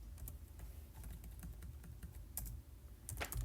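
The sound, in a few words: typing code on a computer keyboard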